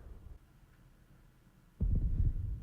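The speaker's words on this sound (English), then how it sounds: "the heartbeat" A low heartbeat sound effect throbs in a One Piece anime episode, starting faint under a quiet hum and then swelling into loud, deep, booming pulses near the end.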